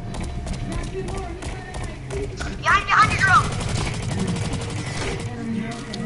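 Rapid bursts of automatic gunfire in a first-person shooter video game, including a machine gun, crackle steadily and loudly with a brief louder flurry midway, while players talk over it.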